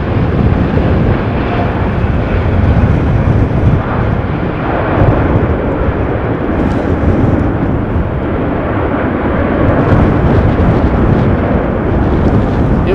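An airplane lands at Amsterdam Schiphol Airport during a storm, its heavy broadband engine roar and rumble blending with gusty wind buffeting the microphone, loud and continuous throughout.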